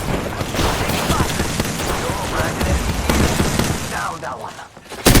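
Dense video-game gunfire and knuckle buster blasts in a chaotic match, with continuous loud shots and booms layered under in-game voice callouts.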